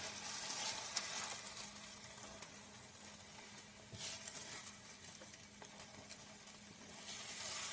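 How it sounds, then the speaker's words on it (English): Soft scrambled eggs cook in a pan beside browned hash browns, a steady low sizzle with occasional scraping stirs throughout, fairly quiet and without any talk. "Just kind of keeping them moving as they're cooking so that I don't get anything sticking down"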